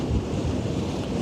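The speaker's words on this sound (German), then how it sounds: "es ist in der Tat richtig windig" Strong wind buffets the open deck of the AIDAprima cruise ship arriving in Ålesund, Norway, a steady low roar of gusts rumbling against the microphone alongside a wash of sea noise, with no talking.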